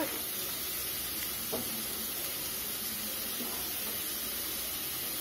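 Garlic fries with onions in a pan, giving a steady low sizzle and hiss that runs through the whole stretch, fairly faint, with a couple of soft stirring knocks.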